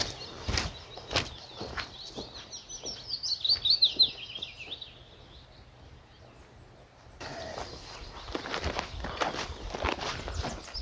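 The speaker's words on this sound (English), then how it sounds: "Listen to the birds, first thing in the morning." Birds chirp and trill in an early-morning woodland beside a secret waterfall, their calls light and scattered, mixed with crunching footsteps and a soft rushing background.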